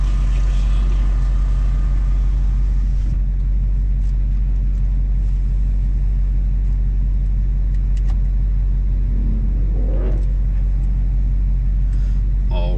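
A car rolls over a bumpy race track, a loud, steady engine rumble and road noise filling the cabin throughout, with occasional knocks and rattles from the rough surface and no clear talking.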